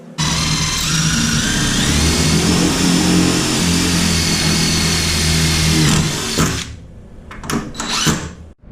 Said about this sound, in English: screwing these every about 2 feet.